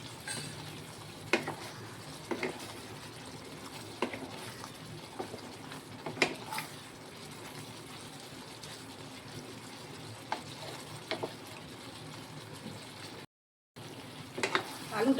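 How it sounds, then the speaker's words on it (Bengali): Pre-fried potatoes are stirred and fried in a pan for a spicy potato curry, with faint frying and scattered quiet clinks and scrapes of a spoon against the pan. "এবার আলুগুলো দিয়ে দিচ্ছি, ভেজে রেখে দিয়েছিলাম আলুগুলো দিয়ে দিলাম, দিয়ে ভালো করে নাড়িয়ে"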